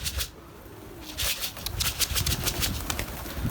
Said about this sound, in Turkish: Yine kuşlar aldım arkadaşlar uçuruyorum